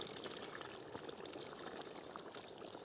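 Tamarind water is poured into a simmering pumpkin and dry fish curry, giving a faint, steady trickling pour that runs unbroken for a few seconds with no talk over it.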